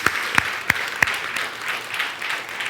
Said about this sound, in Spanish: Denle un amén bien grande al aplauso al Señor.